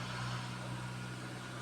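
Ford Everest engine held at 2,000 RPM, a steady, muffled mid-pitched engine hum, faint and continuous throughout the short stretch.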